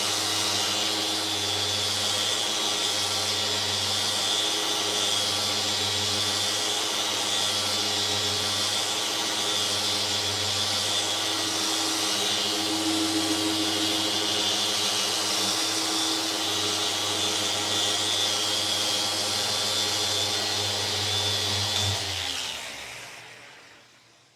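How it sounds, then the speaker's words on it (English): A heat gun blowing on a car windshield glass during polishing and coating prep, a loud steady whirring hum of fan and motor that holds for about twenty seconds before powering down at the end. "I'm going to put the heat gun on it right away."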